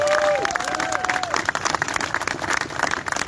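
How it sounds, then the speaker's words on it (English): A crowd at a street demonstration in Bournemouth applauds and cheers steadily throughout, with tonal whoops or whistles sliding down near the start. "Can we all give another round of applause for CJ, bless her?"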